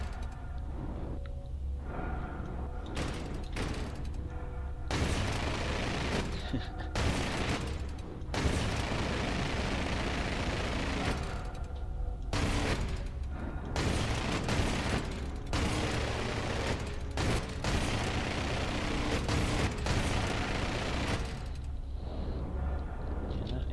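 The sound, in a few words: Star Citizen video game, Avenger ship guns firing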